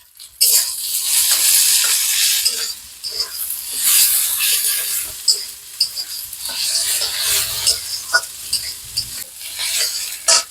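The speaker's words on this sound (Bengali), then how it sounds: "পেঁয়াজটা আর একটু ভাজা হবে, এটা ভাজা হোক" Sliced onion frying in a pan, a loud, close crackling sizzle broken up by repeated scraping stirs of a utensil against the pan.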